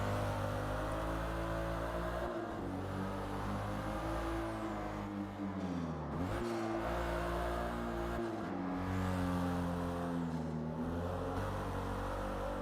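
A Toyota Supra, the last generation with pop-up headlights, drives on the Fujimi Kaido track in Forza Motorsport. Its engine drones steadily and loudly throughout, with pitch dips and rises as the revs shift.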